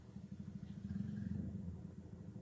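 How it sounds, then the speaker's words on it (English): Motorbike idling and pulling up outside a house, a steady low engine rumble with slight rising revs, fairly close and continuous with no voices. "Why is that motorbike stopped outside my house?"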